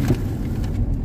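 The engine of a Nissan Patrol Y62 with a failed automatic transmission runs steadily while the vehicle stays put, a low continuous rumble, close and even, with no talk.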